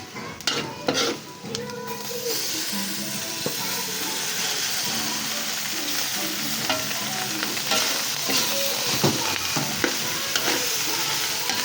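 Pork sisig sautéing with garlic, onion and ginger in a pan, a steady close sizzle with a spatula stirring and scraping against the metal throughout.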